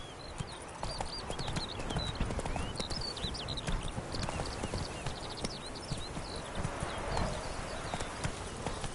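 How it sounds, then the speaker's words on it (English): Horse hooves clip-clop steadily in a video game's medieval setting, a constant close trotting rhythm with chirping birds layered on top. "Come on, Roach."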